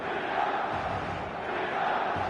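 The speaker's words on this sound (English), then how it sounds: "There's a real expectant buzz in the stadium" Expectant stadium crowd before kickoff in the eFootball video game, a steady dense murmur of many voices forming an even, moderately loud buzz with no distinct calls.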